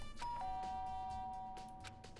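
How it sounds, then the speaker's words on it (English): A doorbell rings in the video game Danganronpa Trigger Happy Havoc: a clear two-tone electronic chime that sustains and fades over a couple of seconds, heard alone without talk. "I press the doorbell."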